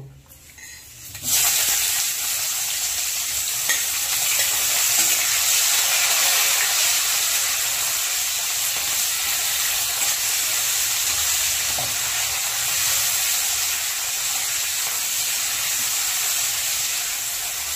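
Chopped onion and green chillies hitting hot oil: a sudden loud sizzle after a quiet second, then a steady, close, bright hiss of frying that carries on evenly to the end.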